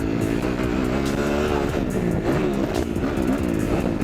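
A Kawasaki KXF 250 motocross bike's engine buzzes at high revs, loud and close, with a steady rasping drone and slight throttle wavering throughout.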